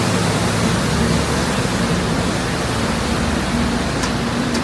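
A street sweeper passes on a Manhattan street, a loud, steady broadband rush and rumble with a low mechanical drone that holds evenly throughout.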